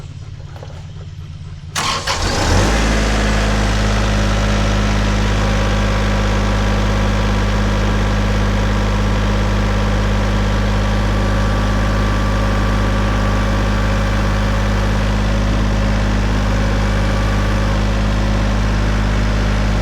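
A Kubota L3901 tractor engine cranks briefly after a quiet moment, catches, and settles into a steady, loud diesel idle that runs on unbroken for the rest of the stretch.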